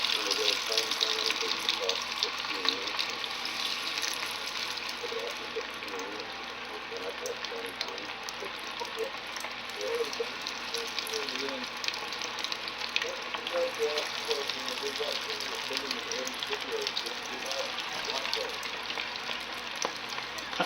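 Food fries in hot, bubbling oil in a backyard cooking setting, a steady, loud, dense crackling sizzle that runs throughout, with occasional voices in the background.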